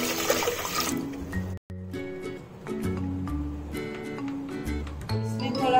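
Water pours onto washed mixed lentils for Amritsari langar-style dal tadka, a loud splashing rush in the opening second, then quieter liquid sounds under steady background music.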